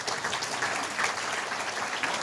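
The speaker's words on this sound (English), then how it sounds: "So let's give them a round of applause for all of their hard work." An audience at a sustainable business summit in Singapore claps for the event team, a dense, even burst of many hands throughout, with no speech on top.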